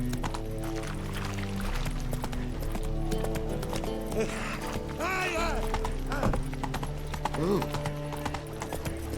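Roach the horse gallops in The Witcher 3, with steady clip-clop hoofbeats running throughout beneath game music, plus a brief whinny and a short exclamation from a voice.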